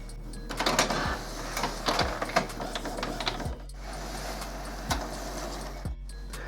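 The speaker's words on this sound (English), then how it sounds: "your printer's going to check itself ever so quickly, make sure it's happy with its ability to print, and then print out a nozzle check" An Epson Expression Home XP-202 inkjet printer runs a nozzle check, whirring and clicking as its print head shuttles back and forth, with periodic thumps and mechanical knocks, close and fairly loud.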